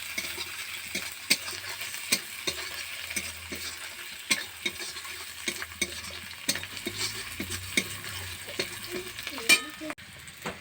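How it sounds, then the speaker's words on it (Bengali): Garlic and onion sautéing in a pan, a constant soft sizzle with frequent light scraping stir strokes and occasional clicks, moderately close and steady throughout. "দেখো আমি এখন রসুন আর পেঁয়াজটাকে ভালো করে একটু কষিয়ে নেব"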